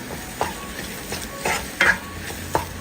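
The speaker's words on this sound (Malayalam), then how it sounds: "ഒന്ന് ഇളക്കി കൊടുക്കാം." A spoon stirs roasted spice powders with salt in a pan ahead of adding chicken. Soft scraping strokes come at irregular intervals over a low sizzle, with no voices.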